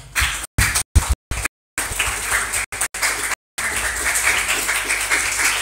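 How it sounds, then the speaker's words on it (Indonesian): Students clap at a junior high school organisational training session in a live broadcast, with bursts of hand clapping that cut in and out and then settle into a sustained round of clapping. "tepuk tangan dulu untuk kita semua"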